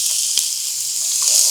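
Onions sizzle in a hot pan, a dense steady hiss of frying that stays loud and close from start to finish, with a faint clatter near the beginning.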